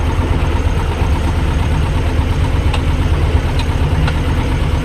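A T-25 or YuMZ-6 tractor engine runs steadily close by with a low, continuous idling rumble and knocking pulse, used for planting potatoes with a planter hitched behind, with no voices.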